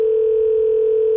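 A steady phone dial tone from a basketball video game plays as a single loud, unbroken tone that lasts the whole moment.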